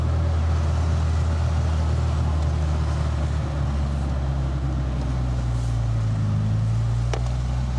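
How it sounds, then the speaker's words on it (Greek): A Honda Accord engine runs at a steady idle. It makes a constant, low droning hum that fills the whole stretch, with no talking. "Ξεκίνησε πολύ ομαλά το αυτοκίνητο"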